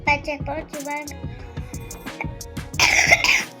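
Someone coughs, with a harsh burst near the end, among close voices talking.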